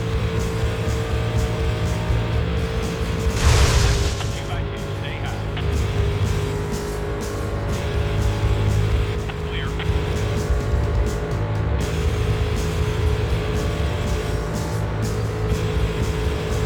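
Race cars roar steadily in NASCAR 2000 on PlayStation 2, a continuous engine drone with one louder swell as a car passes close, running throughout the stretch.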